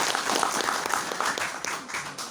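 Applause at a gathering with a retired Indonesian general present, brief dense clapping that fills the whole moment with no voices on top.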